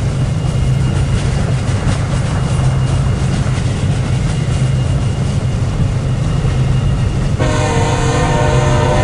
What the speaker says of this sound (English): I just wanted to blow my horn to let other trains know